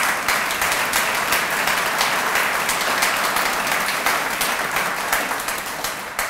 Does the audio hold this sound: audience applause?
yes